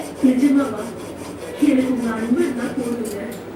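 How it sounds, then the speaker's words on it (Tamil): Waste cardboard is being cut for a mini laptop. Short rasping, scraping strokes come in uneven bursts, close and fairly loud, with brief pauses between cuts. "மீதி இருக்கிறதையும் கட் பண்ணிக்கலாம்"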